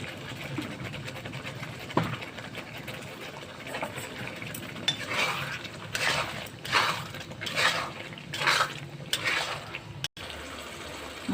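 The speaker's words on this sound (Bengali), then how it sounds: "এবার মশলাটাকে ভালো করে কষে নেব তেল ছাড়া পর্যন্ত" Spice paste sizzles and is stirred in oil in a pan while cooking a Bengali gaati kochu (taro) curry, with scraping spoon-on-pan bursts and soft frying hiss, close and moderately loud, no talking.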